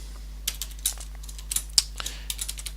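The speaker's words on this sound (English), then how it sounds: "Let's go ahead and type in" Code is typed on a computer keyboard in a series of crisp, irregular keystrokes. Close, moderately quiet clicks come alone over a faint steady hum.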